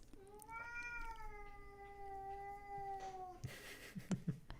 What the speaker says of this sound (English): You might hear our cats meowing in the background